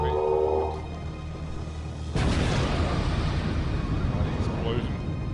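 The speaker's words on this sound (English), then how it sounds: "with a almighty" A loud explosion sound effect bursts in suddenly and sustains as a broad, rumbling roar through the rest of the clip, following a stretch of low background music, set in a grim dark tabletop role-playing game session.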